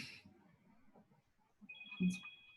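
A phone rings with a brief, thin electronic tone lasting about a second over a quiet, murmuring background during an online meeting.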